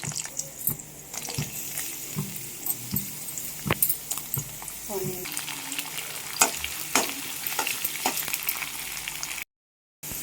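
Garlic cloves and tempering spices fry in hot oil for a tomato dal, a continuous crackling sizzle with scattered pops and clinks of stirring at close range, with no speech.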